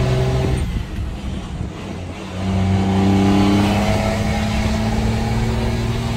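A toy kick scooter rolling along, its motor-like engine tone rising and sustained as it speeds up, steady and fairly loud throughout with a brief dip before the pitch climbs again.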